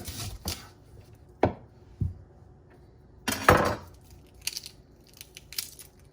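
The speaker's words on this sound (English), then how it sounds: "Just gonna slice a little bit of red onion in there." A knife cuts through red onion on a board in a home kitchen, giving a few sparse, sharp chops and taps with quiet gaps between them.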